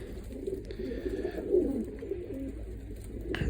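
Breeding pigeons coo softly and continuously in a low, rolling murmur, with faint background noise and a brief higher chirp.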